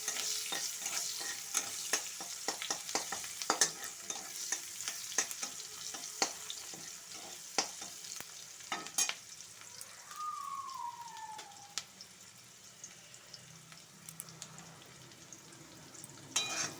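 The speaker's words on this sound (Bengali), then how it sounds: "অল্প করে কালি জিরে, পেঁয়াজ ফোড়ন দিয়ে দিলাম, দিয়ে এবার একটু নাড়াচাড়া করে দেবো।" Black cumin and onion tempering in oil with a faint, low sizzle, while a utensil stirs in sparse, scattered taps and scrapes across the pan. Near the midpoint a short gliding tone sounds in the background.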